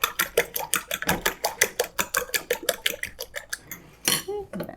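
Eggs are whisked hard in a bowl for a vegetable omelette, a fast run of close, bright metallic clicks against the bowl that slows near the end, with no talk.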